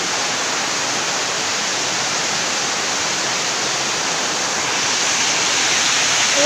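Steady rain pours down in a neighbourhood, a dense, even hiss that stays constant and loud throughout with no pauses and no voices.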